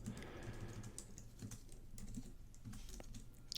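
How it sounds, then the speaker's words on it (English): Steady close-up typing on a computer keyboard, quick irregular key clicks with a few louder taps, quiet and near with no talking. "My mic is in front of my keyboard, so my typing skills are a little reduced."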